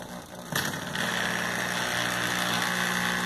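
An old electric water pump motor fitted to a tanquinho washing machine switches on abruptly, then settles into a steady, close mechanical hum that runs on unbroken.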